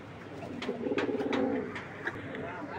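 Pigeons at a breeding farm of racing and high-flyer birds, including Rampuri pairs, give a few soft, throaty coos that swell and fade over a faint background hum.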